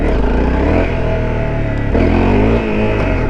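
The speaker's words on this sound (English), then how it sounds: "I like to just get like barely rolling, kinda, and then give it some throttle" A motorcycle engine roars close up as the rider rolls on the throttle for a wheelie, its pitch climbing in two revving surges over a loud, continuous exhaust.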